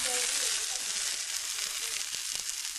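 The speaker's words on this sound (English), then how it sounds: "Oh yeah, hear that sizzle." Food sizzles steadily in a hot pan with a bright, crackling hiss, and a voice murmurs faintly underneath.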